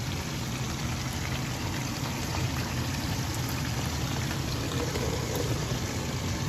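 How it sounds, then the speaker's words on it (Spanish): Potato and onion for a Spanish tortilla fry in a pan with a soft, steady sizzle and hiss that stays even throughout. "Revolvemos, movemos para que cocine o cocer bien la papa y la cebolla."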